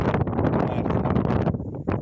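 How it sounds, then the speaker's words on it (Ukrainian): Strong, cold northerly winter wind buffets the microphone in heavy, rumbling gusts, loud and close, easing briefly near the end before another blast. "бо дуже холодно, пориви вітру"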